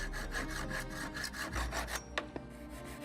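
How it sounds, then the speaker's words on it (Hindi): A hand saw cuts a wooden stick to length, with rapid rhythmic back-and-forth rasping strokes, close and steady, ending in a couple of sharp knocks. "इसकी लंबाई नापकर इस टुकड़े को आरी से काट देना है।"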